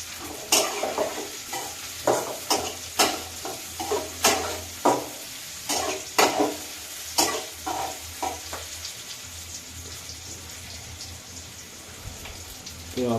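Egg bhuna frying in a pan while a spoon stirs it, giving a steady soft sizzle broken by a dozen or so rhythmic scraping strokes that stop after about nine seconds, leaving only the quiet sizzle.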